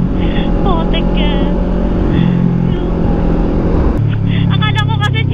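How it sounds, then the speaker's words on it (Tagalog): A motorcycle speeds uphill with a loud, continuous engine drone and rising and falling revs, with wind noise throughout and a person talking over it. "Uy, paakyat na tayo. Malapit ko nang makita si San Pedro. Mabilis ng motor."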